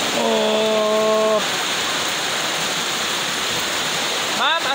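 Rain falls during an outdoor birthday dinner, a steady, dense hiss throughout, with a voice calling out briefly at the start and again near the end.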